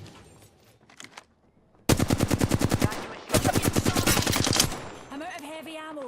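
Rapid automatic gunfire in the video game Apex Legends, heard as two long bursts of evenly spaced shots, loud and close, with a brief pause between them and faint game sounds before and after.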